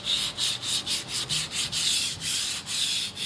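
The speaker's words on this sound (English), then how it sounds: "keep sanding until flat" Filler being sanded flat on a patterned kitchen laminate surface, steady rhythmic rasping strokes back and forth, about a dozen close and even passes with no talk.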